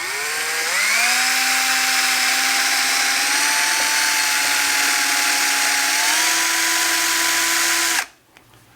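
Power drill boring a hole through a handlebar on a 2019 Honda Monkey, a steady high motor whine rising slightly in pitch as it bites, running continuously for about eight seconds, then cutting off abruptly.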